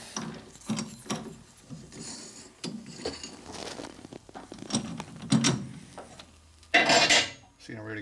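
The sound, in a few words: threading die run down a Harley springer fork rod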